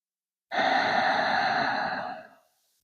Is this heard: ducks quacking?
no